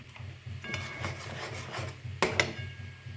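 Milk for a sweet dessert being stirred steadily in a pan with keora water added, a soft continuous scraping and rubbing with a few sharper utensil clinks near the end, close and moderately quiet with no talk.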